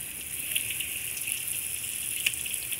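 Water runs steadily from an outdoor tap or shower in Florida to rinse off feet, a close continuous gushing hiss with a few faint splashes.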